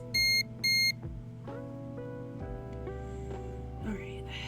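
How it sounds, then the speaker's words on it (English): Two short, bright electronic alarm beeps sound close together at the start, then give way to a softer, wavering tonal background. "Beep, beep, beep."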